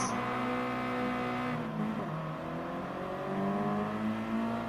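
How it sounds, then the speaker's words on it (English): A 2021 Toyota GR86 in Gran Turismo Sport revs hard as it accelerates from the back of the grid, its engine note climbing through gears with a brief dip at a shift, loud and continuous with no talk. "Now this is going to be a different sound engine on the GR86"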